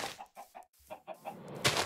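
Minecraft chickens clucking, a quick run of short close clucks in uneven rhythm, ending in a brief louder burst of noise.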